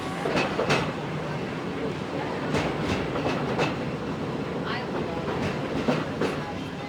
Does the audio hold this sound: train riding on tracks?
yes